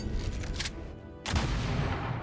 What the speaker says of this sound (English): we can now take a shot with the pistol here